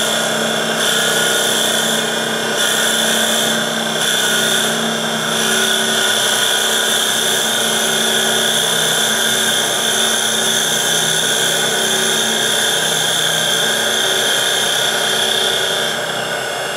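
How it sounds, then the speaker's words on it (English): A steady, loud whir of a spinning wood lathe with a constant high tone runs throughout as a large drill bit is fed into wood, with slight fluctuations and no talking. "once the lathe gets up to speed here, I can start feeding this drill bit in"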